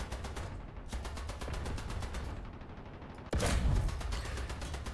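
A German late-war tank gun fires in a World War II video game. One sudden loud blast comes near the end over a steady, rhythmic mechanical rumble.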